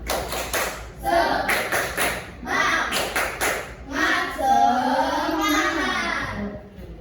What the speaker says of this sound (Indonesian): Masih ingat tepuk semangat? Tepuk semangat.